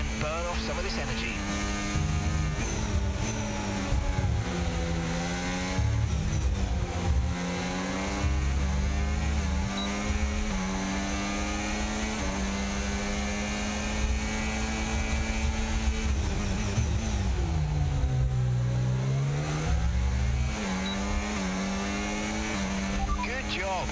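Formula 1 car in the F1 25 racing game accelerating on overtake boost, a steady high engine whine climbing and dipping in pitch as it revs through gears, with voices talking over it.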